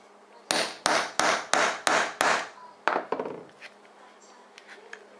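A hammer strikes a metal doming tool set on cut leather for a tomahawk cover, about seven sharp, evenly spaced blows followed by a couple of lighter taps, loud and close with no talk.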